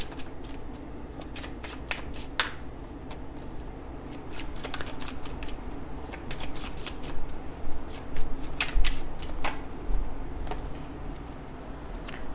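Tarot cards being shuffled by hand, a continuous soft riffle and slide with repeated sharp flicks and snaps throughout, close and clear, without any talking.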